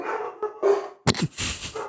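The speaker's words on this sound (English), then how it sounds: "There's my dogs." Dogs barking and whimpering in short yips and a louder bark burst, heard as samples sequenced on a Bitbox sampler and processed through a Noise Engineering Melotus Versio effects module, close and dry with gaps between calls.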